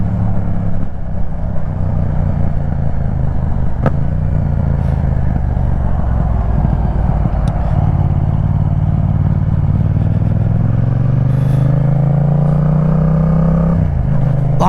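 A Yamaha MT-07 motorcycle rides on the road on a mild afternoon, its engine a steady, close drone that climbs in pitch toward the end as the rider accelerates.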